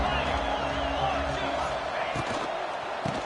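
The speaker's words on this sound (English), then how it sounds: "Listen to the crowd energy here in the early going." A stadium crowd at a Pitt vs Miami college football game roars as a continuous, dense wash of noise, loud and distant, with a commentator talking over it and occasional sharp thumps.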